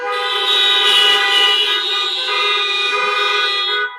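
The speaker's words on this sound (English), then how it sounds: "Honk if you agree with me." A car horn blares in one long, loud, steady blast lasting about four seconds at a community protest, close by and with no talk over it.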